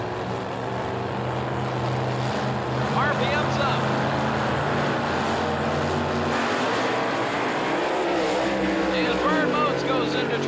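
A drag racing car at the 1984 World Finals in Pomona revs hard at the starting line, a loud, dense, continuous engine roar with rising and falling pitch, while an announcer talks over it.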